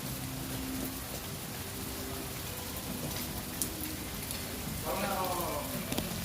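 Steady rain falls through a rainy afternoon at a restaurant in East Ridge, a constant close hiss of drops on surfaces that lasts the whole stretch while a voice talks over it.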